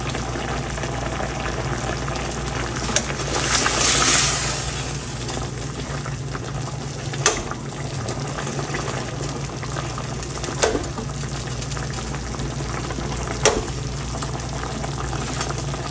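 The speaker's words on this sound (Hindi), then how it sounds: "हमने ये टमाटर चम्मच की मदद से पीसी" Cooked tomatoes being mashed with a spoon in a frying pan for a Peshawari chicken karahi, a steady bubbling simmer with scattered sharp spoon taps against the pan and a brief burst of wet squelching.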